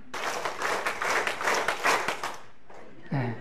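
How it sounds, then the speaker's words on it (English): A group at a church session claps together in unison, a run of rhythmic synchronized claps that stops abruptly, followed by a brief voice. "Let's clap the 5 times together."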